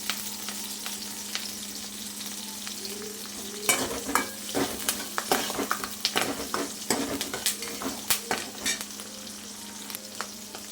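Onion and curry leaves sautéing in a pan for okra kara kuzhambu: a constant hot-oil sizzle, with a spoon stirring and scraping against the pan in a quick, irregular run of clinks during the second half.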